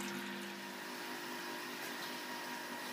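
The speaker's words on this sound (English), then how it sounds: "the water's all in the mash tun" Water streaming steadily into a homebrew mash tun, a constant loud rushing flow with a pump-like hum, close and unbroken throughout.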